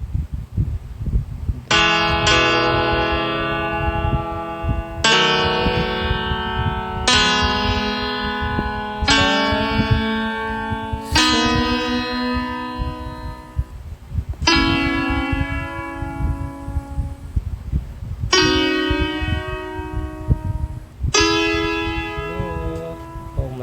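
Piano chords struck one after another during a Tagalog chord-theory lesson, about eight sustained, ringing chords with clear gaps between attacks, played alone at moderate loudness.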